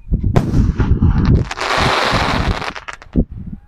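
A firework shell launches with a thump, then bursts into a globe, giving a loud boom followed by about a second of dense sizzling crackle and a few scattered pops as it fades.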